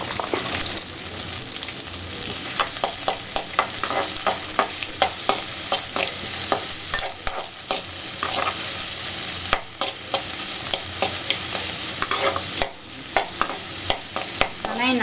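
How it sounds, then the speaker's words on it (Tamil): Onion and green chili sauté in hot oil in a pan, a continuous bright sizzle broken by repeated scraping stirs of a spatula, close and fairly loud with no talking. "வெங்காயம் நல்லா வதங்கட்டும்."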